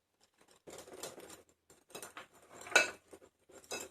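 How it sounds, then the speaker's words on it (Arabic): Eggs are beaten with butter and sugar in a bowl for vanilla pear and raisin cake batter, heard as a few quiet bursts of utensil scraping and clinking with short pauses between. "هنضرب البيض مع الزبدة والسكر"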